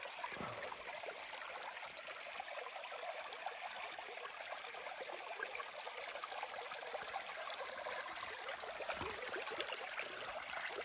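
Creek water runs over granite in a continuous, even trickling and babbling stream, moderately faint and close, with no voices.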